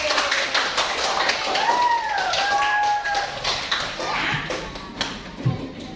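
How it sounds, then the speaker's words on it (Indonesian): Pupils in an Indonesian classroom clap for their teacher, a scattered run of light, quick claps continuing for several seconds at moderate distance, with a voice and other small room noises mixed in. "tepuk tangan dulu untuk Ibu"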